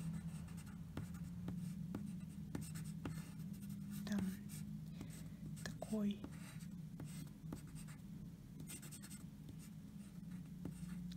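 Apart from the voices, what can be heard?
colored pencil sketching on paper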